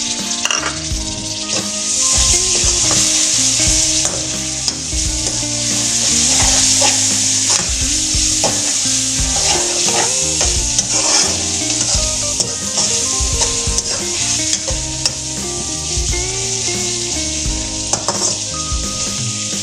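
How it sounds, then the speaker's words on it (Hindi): Tomatoes with ginger garlic paste fry in a pan for a Shimla mirch and aloo recipe, a loud, steady sizzle with repeated scraping and knocking of the stirring spoon against the pan, close by and without talk. "अब ये टमाटर डालते हैं इसमें।"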